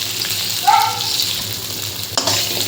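Onions frying with mustard seeds, lentils and green chili in a pan, a soft steady sizzle with a brief bright squeak and a sharp knock near the end, no voices.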